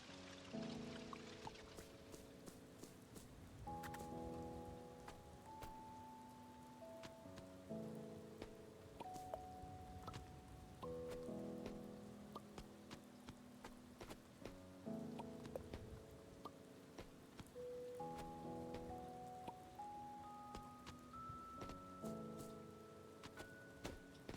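Steady rain falling in a video game, a soft continuous patter underneath game music, faint and even throughout.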